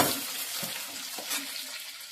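Cumin seeds fry in a pan, giving a continuous close sizzle with occasional stirring scrapes over two seconds.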